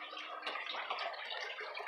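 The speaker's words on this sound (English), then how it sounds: "Nice high flow rate coming out there." Water pours and churns from the outlet of a homemade 5-gallon bucket aquarium filter, a steady close gurgling rush at a high flow rate with no voices over it.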